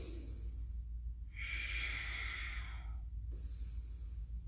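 Heavy breaths during a yoga low lunge come in two long, breathy exhalations with a quieter pause between, close and soft over a low room hum.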